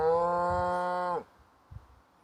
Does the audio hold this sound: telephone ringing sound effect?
no